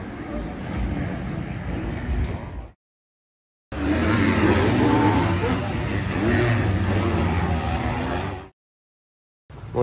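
MX2 motocross bikes race on the track at the German GP, a loud, sustained engine drone broken by sharp cuts to silence, with voices heard over the noise.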